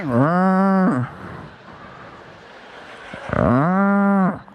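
A man imitates a cow mooing with his voice, two long loud harmonic moos separated by a quieter pause, as a cow crosses a street while driving.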